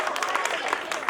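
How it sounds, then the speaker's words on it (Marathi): Audience applause greeting a dance performance at a stage program, a brief burst of dense, steady clapping from a crowd with some voices mixed in. "त्याच्यासाठी एकदा जोरदार टाळ्या होऊन जाऊ दे."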